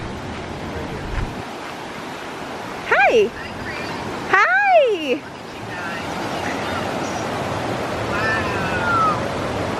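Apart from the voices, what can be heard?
roaring river water flowing over rocks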